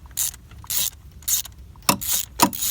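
Ratchet turning a 5/8 spark plug socket to loosen a spark plug on a BMW E46 3 Series, a series of about five close, crisp clicking bursts in an uneven rhythm with brief pauses between strokes.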